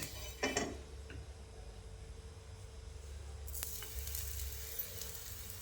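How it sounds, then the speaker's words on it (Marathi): A sabudana aloo paratha sizzles on an oiled tawa over a gas flame, a steady quiet frying hiss with a few light utensil clinks near the start and again midway. "तव्याला छानसं तेल लावून घ्यायचं आणि नंतर पराठा टाकायचा आहे आपल्याला"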